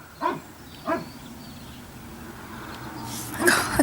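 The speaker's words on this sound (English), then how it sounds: "That dog scared me." A dog barking on an outing near the Jacobite train route, two sharp barks close together followed by a louder burst, over outdoor background noise.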